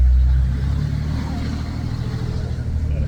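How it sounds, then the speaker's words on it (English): A Ram Mega Cab truck's exhaust rumbles deep and loud while driving, an opening heavy boom easing into a steady close drone. "And how about that exhaust note?"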